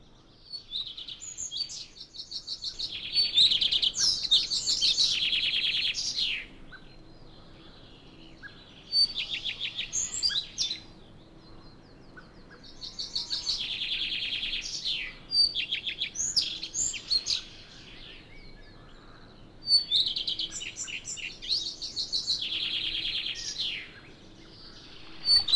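Young tits chirping while bathing in a May-to-July garden, bursts of high, rapid twittering in several clusters a few seconds apart, close and clear against a quiet background.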